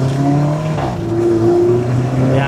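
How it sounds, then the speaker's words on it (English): Loud engine drone and intake roar fill the cabin of a 2015 Alfa Romeo 4C, with the mid-mounted engine close behind the seats and air intakes on each side, a steady rumble with rising and falling tones. "it's super loud. You got the engine right there behind you. You got the air intakes on each side of you as well."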